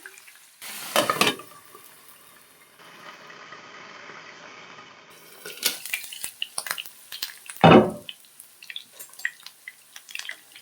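Food roasting to a golden colour in a pan for a Tamil home recipe gives a steady soft sizzle, broken by a few louder bursts of stirring and one sharp clatter near the pan. No one speaks.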